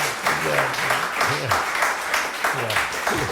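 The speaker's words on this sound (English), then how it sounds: "A little applause, please." Audience applause during a classical song interpretation class on Schubert's "Du bist die Ruh", steady moderate clapping with a voice speaking over it throughout.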